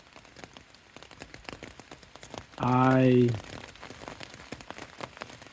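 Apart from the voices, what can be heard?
rain falling at a trail shelter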